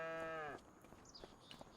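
Cattle low with a loud, sustained moo inside a large cow barn in the Farming Simulator 25 video game; the single call fills the first half-second, then fades into faint barn ambience and soft clatter.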